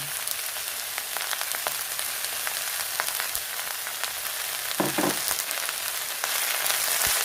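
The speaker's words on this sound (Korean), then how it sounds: "부추를요. 살짝만 살짝만 살짝만 볶으시면 돼요." Garlic chives stir-fried briefly in a hot pan while making japchae, giving a steady close sizzle and crackle that runs throughout, with a few louder stirring scrapes near the middle.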